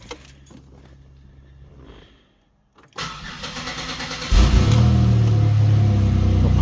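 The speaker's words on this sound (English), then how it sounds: "Go ahead and give this thing a crank, see if the charging system failure light's still on or not" A Pontiac Grand Prix 3800 V6, just fitted with a new alternator, cranks briefly after keys jangle and a short silence, then catches and settles into a loud, steady idle close by.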